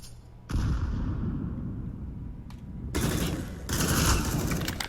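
Bursts of gunfire crackle through a competitive first-person shooter esports match, with dense sustained volleys that ease briefly, then return louder and heavier near the end, with no talking.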